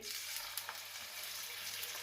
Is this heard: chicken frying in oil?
yes